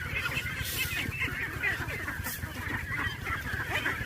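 Farm ducks feeding from a bowl of water beside a pond, giving quiet, repeated honking calls and soft dabbling sounds over a faint background.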